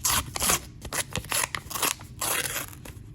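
Scissors or a blade snip and slice through the cardboard of a box of half dollar coin rolls. The cuts come close up as a quick run of crisp crunching, rasping strokes.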